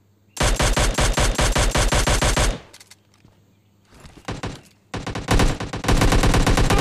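Rapid Mini14 rifle fire in PUBG Mobile Lite, a loud sustained string of shots, a short pause with a scattered burst, then another long, steady volley close up.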